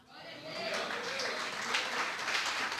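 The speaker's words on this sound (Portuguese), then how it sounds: "Aplaude." A church congregation applauds during a sermon, clapping rising from a thin start into a full, steady wash while the preacher's voice carries on over it.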